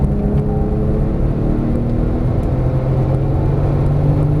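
A Porsche Turbo S engine drones loudly and steadily under full throttle, a dense low rumble from inside the car with a faint rising tone and no break for the whole stretch.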